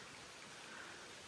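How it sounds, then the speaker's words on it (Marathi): A brief, even hiss of steady rain falling, soft and continuous with no voices. "आणि पाऊस पडायला लागला आता"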